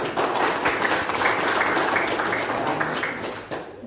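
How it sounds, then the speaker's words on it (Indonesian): Dense, sustained applause from an audience at a business event fills the room, steady and loud before tapering slightly near the end. "Aplaus dong."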